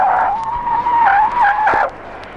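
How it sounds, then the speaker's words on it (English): 1971 Holden Belmont in a full panic stop from 60 mph on a braking skid pad: loud, sustained tire squeal wavering in pitch for nearly two seconds, then cutting off, heard up close with no talking. "Just listen to a full panic stop from 50 miles an hour. Now for 60 miles an hour."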